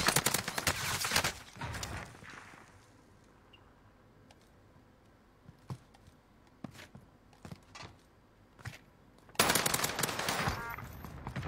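A Blixen gun fires in a video game with loud bursts of rapid shots at the start and end. Scattered single cracks and ticks fill the quieter middle.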